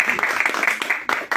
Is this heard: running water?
no